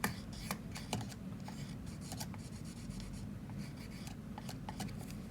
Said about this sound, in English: Now I'm going to write on the bottom of my cup,